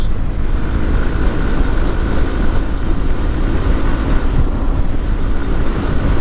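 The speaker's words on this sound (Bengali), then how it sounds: "আমার বাইক হচ্ছে নব্বই প্লাস স্পিডে ঠিক আছে আমি হ্যান্ডেল ধরে রাখতে পারতেছি না বাইকের এত পরিমাণের বাতাস" Wind roars steadily and loudly across the microphone while riding a Gixxer motorcycle at over 90 on an open road. The rush is constant and blotting, and the engine is buried beneath it.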